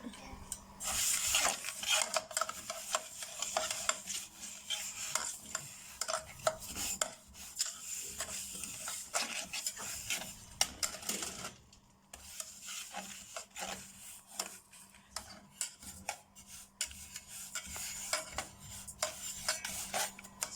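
Sesame seeds poured into a hot pot on the fire and stirred, giving continuous close scraping, rubbing and rattling against the metal with a steady low hum underneath, the texture shifting as the seeds are worked around.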